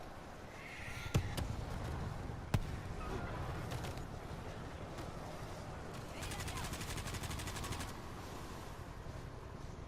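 AI squadmates lay down cover fire in World War Z on PS4, with a couple of sharp close gunshots and a rapid automatic burst later, set against a busy game background.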